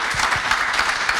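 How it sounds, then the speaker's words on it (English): Applause greets the end of a PhD defence, a brief steady burst of many hands clapping in a hall, even and fairly close throughout. "First applause."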